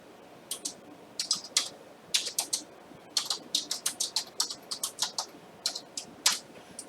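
Fingers typing on a computer keyboard, crisp close key clicks in irregular bursts and short runs with brief pauses between words.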